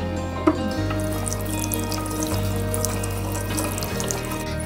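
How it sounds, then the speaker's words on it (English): Tap water runs steadily into a sink while wheat grass is washed in it, a continuous close splashing with brief clinks, and no voices. "Wash it in water."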